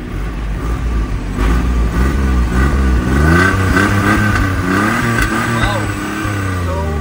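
A vehicle engine with a freshly fitted muffler runs close by and revs repeatedly, its pitch climbing and falling in waves over a loud, continuous rumble.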